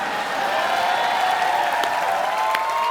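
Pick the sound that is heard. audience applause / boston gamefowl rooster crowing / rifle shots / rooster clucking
audience applause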